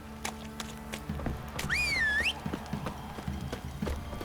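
Hooves clip-clop in a steady rhythm close by in The Witcher 3: Wild Hunt, and a horse briefly whinnies partway through.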